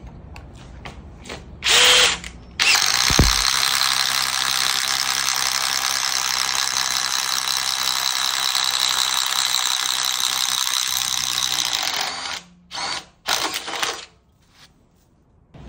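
An original DeWalt impact driver running at maximum speed with a one-inch bit, a loud sustained rattling hammer-whir lasting about ten seconds, preceded by a short burst and followed by a few brief stuttering pulses before it stops.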